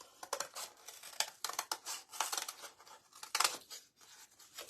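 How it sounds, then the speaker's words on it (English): Large scissors cut through paper in a series of crisp, irregular snips and crinkles, close and fairly quiet, with short pauses between cuts. "I think I'm just going to use big old scissors."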